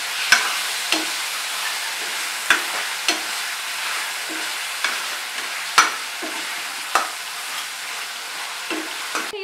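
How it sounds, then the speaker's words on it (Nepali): Yak meat sizzles in a hot pan while a utensil stirs and scrapes it at a fairly regular pace, giving a dozen or so sharp clacks over a continuous close frying hiss, with no voices. "र यसलाई मजाले मिक्स गरेर भुट्छौँ"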